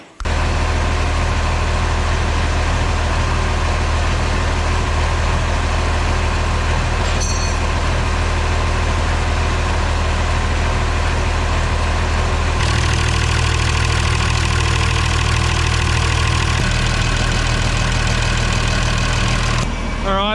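A Massey Ferguson 3505 tractor engine runs steadily and loudly close by, a constant low diesel rumble with a brief clatter midway and a slight shift in tone after a few seconds more.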